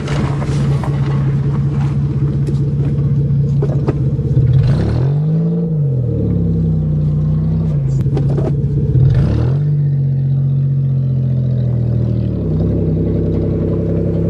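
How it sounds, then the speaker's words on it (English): A manual Toyota car braking with the clutch pushed in, a loud steady engine hum that dips and swells twice as the engine speed changes, with no talk. "I'm braking, so clutch is pushed."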